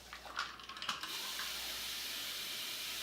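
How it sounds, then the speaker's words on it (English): Water poured into a one-cup camping dish of rice outdoors. A few splashes come first, then a steady close hiss of pouring that carries on to the end. "And we're going to put our 2 cups of water."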